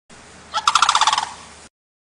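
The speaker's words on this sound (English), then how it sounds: "Crane couples mate for life." A single crane call: a loud, rapid rattling series of about a dozen trumpeting pulses, heard alone and close.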